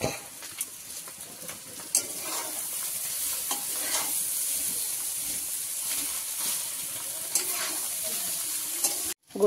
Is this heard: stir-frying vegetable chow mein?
yes